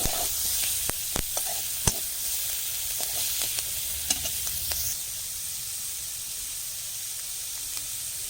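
Shrimp sizzling and frying in a hot wok (kadai) for Bengali chachchari with brinjal and potato, a steady close hiss with scattered sharp pops and crackles, busier in the first half and settling to an even sizzle.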